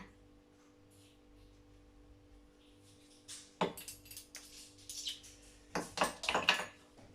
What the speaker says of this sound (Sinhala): දැන් අපි කලවම් කරනවා.